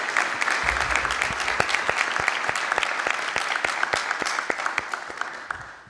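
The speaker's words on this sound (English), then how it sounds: "please join me in a round of applause to congratulate ourselves" An audience at a medical students' expo claps in applause: a full round of sharp, distinct hand claps that starts thick and gradually thins into sparser, rhythmic claps as it tapers off.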